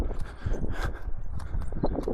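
Horses walk along a rocky mountain trail in Juta Valley, Georgia, their hooves clip-clopping in a steady, close, uneven rhythm on stone, with no talking.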